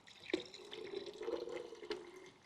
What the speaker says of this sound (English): This bucket, I'm going to pour a little bit of my hydrogen peroxide.